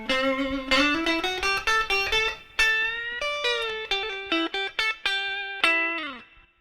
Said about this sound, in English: A little bit of neck pickup.